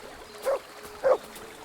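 A dog in Kingdom Come: Deliverance 2 gives two short barks about half a second apart, close and clear over a quiet background hum.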